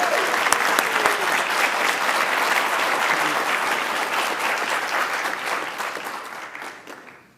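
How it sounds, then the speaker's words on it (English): An audience at a Spring 2025 ROTC commissioning ceremony gives a sustained round of applause for a Second Lieutenant, with dense, even clapping filling the room and then tapering off at the very end. "please join me in a round of applause for Second Lieutenant Colby Roberts"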